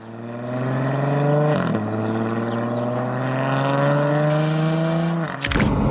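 A Jaguar F-type S in sport mode with its exhaust valves open revs hard twice, the engine note climbing steadily in pitch each time before cutting off abruptly, loud and close with no talking.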